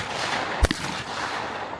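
Shotgun blasts at clay targets on an outdoor range at Elstonville: two sharp, loud reports about a second apart, each a sudden broadband crack over steady outdoor background noise.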